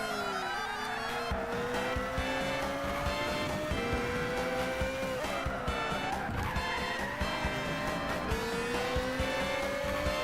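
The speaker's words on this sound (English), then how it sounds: "this car really hits the rev limiter" Race car engine in Gran Turismo 6 screaming at high revs and repeatedly bouncing off the rev limiter, pitch climbing through gears with tire squeal, loud and continuous with no talking.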